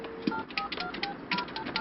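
Telephone keypad tones dial a number, a quick run of separate beeps in an irregular rhythm, fairly faint and close, with no talking.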